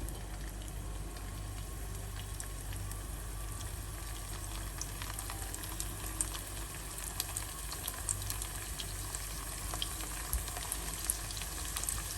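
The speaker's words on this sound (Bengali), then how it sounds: "এখন দিয়ে দিব আমি কুপ্তাগুলো।" Koftas fry in olive oil over low heat, giving a faint, even sizzle under a low hum, with sparse soft crackles scattered through.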